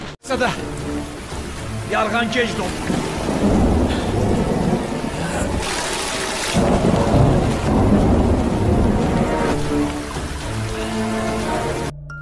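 Rain pours steadily with low rolling thunder in a film scene set in a narrow pit, a broad continuous wash that swells midway, with voices and music-like tones mixed over it.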